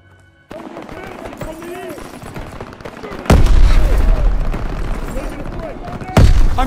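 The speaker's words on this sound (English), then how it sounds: "Gunfire this way!" Rapid gunfire and heavy blasts in the World War II shooter Call of Duty WWII, a dense, loud barrage with two big booming impacts, over battle noise and shouted voices.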